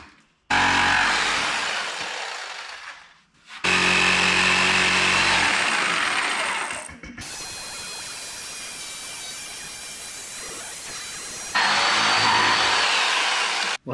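A power jigsaw cuts through wood trim in several loud, buzzing bursts separated by brief pauses. A longer, steadier cut follows near the end.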